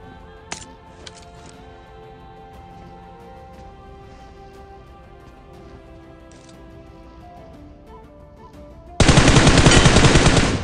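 A burst of automatic gunfire from BGMI rings out loud and dense for the last couple of seconds, following a quiet stretch of game ambience with a few faint distant cracks.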